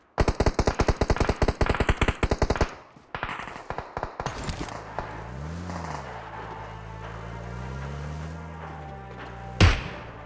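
PUBG Mobile rifle fire on the Livik map: a rapid burst of loud, close automatic shots for about three seconds, a few scattered single shots, then a low rumbling engine hum and one final sharp bang.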